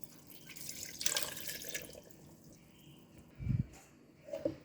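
Water is poured into a blender jar for rinsing while making a Tamil-style greens blend, a soft running trickle with a clearer splashy burst near the end, close and quiet with no talk.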